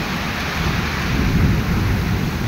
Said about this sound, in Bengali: আমাদের গাজীপুরে দেখেন প্রচুর বৃষ্টি হইতেছে